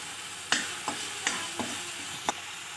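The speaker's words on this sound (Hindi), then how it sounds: "देखिए इसको भी अब हम हल्का सा भून लेंगे। ये देखिए अब हमारे ये टमाटर भुन गए हैं।" Tomatoes with turmeric frying in a pan for green chickpea nimona, a steady soft sizzle with five spaced stirring scrapes, close and fairly quiet with no talking.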